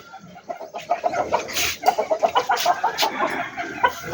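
Several chickens cluck close by in quick, uneven bursts, a steady run of short calls with faint farmyard background.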